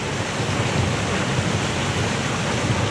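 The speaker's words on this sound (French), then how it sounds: "Voilà, cascade là." A waterfall in La Forêt Desmazures, New Caledonia, roars as a loud, steady broadband rush of falling water close by, unbroken for the whole stretch with no voices over it.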